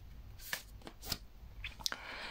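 Tarot cards being shuffled and drawn during a reading, a few soft, brief papery flicks and snaps spaced irregularly, close and quiet with no talking.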